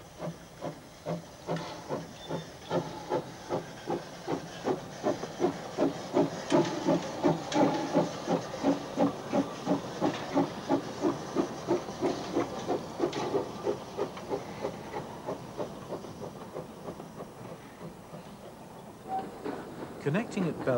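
An NA-class narrow-gauge steam locomotive on the Puffing Billy line chuffs in a steady rhythm of sharp exhaust beats that quicken then slow, with hissing steam, under a narrator's voice.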